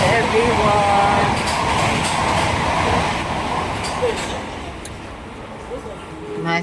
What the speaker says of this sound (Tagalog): My first train is already here.